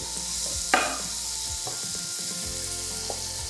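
Onion frying in fat in a pan, a steady close sizzle with a brief sharper crackle near the start and faint utensil clinks.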